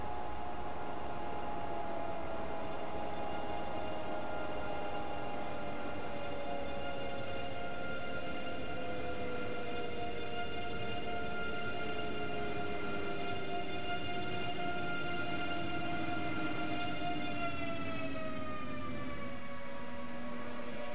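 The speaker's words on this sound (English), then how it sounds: "our speed is coming off quickly now as we come towards the red signal." A train in Train Simulator 2015 brakes on a German route toward a red signal, its motor whine slowly sliding down in pitch over a constant rolling hiss, with no voices heard.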